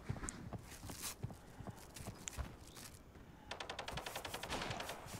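Gunfire rings out in the shooter video game Arena Breakout, with scattered single shots giving way to a rapid burst of automatic fire, fairly faint and coming from behind, with no talk over it.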